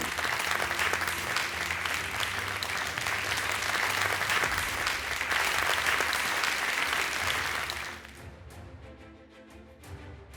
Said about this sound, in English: Join us in applauding